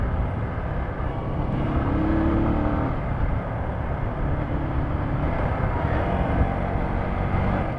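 A Keeway Cafe Racer 152 motorcycle runs steadily while being ridden, its engine a continuous, fairly loud drone with wind rumble and no clear speech.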